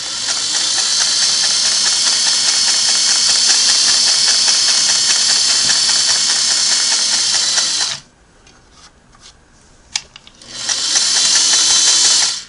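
A Sweetness 401A MO sewing machine stitches at a fast, even, loud mechanical whir for about eight seconds, pauses briefly with a few faint clicks, then runs again.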